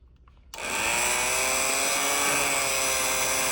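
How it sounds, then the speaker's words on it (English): An immersion blender whirs into cooked spinach dal after a quiet moment, then holds a loud, steady high-pitched drone close up until the end. "I'm going to use the immersion blender and"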